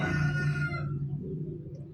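A rooster crows loudly for about a second, a harmonic call that fades out, leaving soft background noise.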